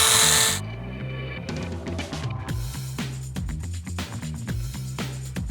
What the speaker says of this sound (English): So here I'm just using a well-worn and well-used 120 grit sanding disc to take back